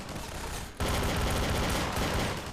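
Dense, continuous gunfire in a sci-fi video game crackles loudly, pausing briefly before resuming as a sustained rattling barrage.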